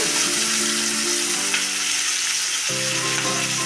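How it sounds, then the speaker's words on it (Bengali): Onions and dried shrimp fry in hot oil with a loud, steady sizzle close up, and a low sustained hum shifts pitch partway through. "তেলটা একটু পেঁয়াজটা ভাজা হোক, নরম হয়ে যাবে"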